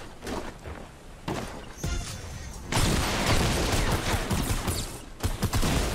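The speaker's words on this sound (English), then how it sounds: "Bro, that shotgun's so bad." Shotgun blasts and gunfire in Fortnite Season 6, a dense run of loud bursts and impacts mixed with game effects, with no talk over it.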